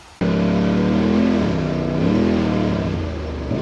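Motorbike engine revving hard on a dirt track lap, loud and close, pitch rising and falling with throttle changes and easing off near the end.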